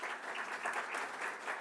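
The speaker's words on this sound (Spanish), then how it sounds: "lo recibimos, por supuesto, con un fuerte aplauso" Audience applause welcoming a speaker onto the stage at a university talk on AI and the future of work, a steady dense patter of clapping from a moderately distant crowd with no voices over it.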